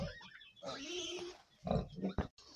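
A young first-litter sow on a small farm grunts in short, low snorting bursts, fairly close and moderately quiet, with brief gaps and a faint background voice or two.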